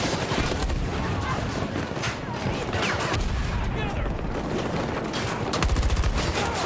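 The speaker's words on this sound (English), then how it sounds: "he hit me with a shotgun" Shotgun and other gunfire in a multiplayer shooter video game, dense overlapping shots and blasts in a chaotic stream, loud and continuous with faint voices underneath.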